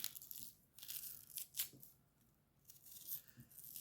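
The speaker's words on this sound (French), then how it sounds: "Déjà, je vais déjà éplucher mes oignons." Onions peeled by hand give soft, papery crackles and tearing rustles in short bursts, quiet and close, with no talk.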